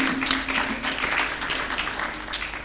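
Applause from the audience at a governance event on women's participation, a steady crackle of clapping throughout the short stretch with a faint hum underneath.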